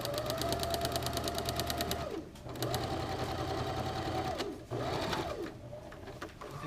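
Sewing machine running a steady, fast stitch around a curve on a jacket's front lining. It stops briefly twice before resuming, loud and close, with no talking.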